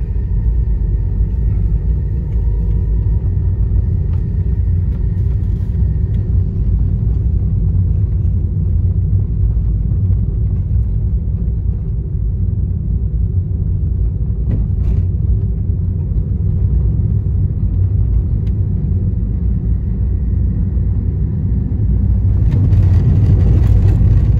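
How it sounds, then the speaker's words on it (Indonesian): Traffic at the bus terminal in Blangkejeren, Gayo Lues, heard as a loud, steady low engine rumble throughout, suggesting a vehicle idling or driving nearby, with no speech. "Nah, ini terminal Blankecren."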